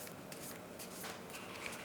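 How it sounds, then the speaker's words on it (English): Smooth, untextured Gamegenic sleeves on Lorcana trading cards riffle and slide in a steady, close, quiet shuffle with a soft papery rustle throughout, no voices. "Great shuffle feel, no doubt."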